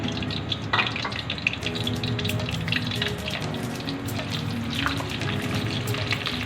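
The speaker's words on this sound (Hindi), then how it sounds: "अब इसमें हम ज़ीरा डालेंगे।" Cumin seeds sizzle and crackle in hot oil in a pot, a steady dense frying hiss with light stirring scrapes throughout, fairly close and without talk.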